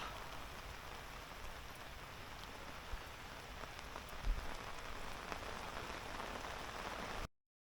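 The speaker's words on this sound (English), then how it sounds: "I will hear them above the sound of the rain on the brolly." Steady rain patters on an umbrella nearby at a lakeside, a dense, even hiss of drops with occasional louder taps, until it cuts off abruptly.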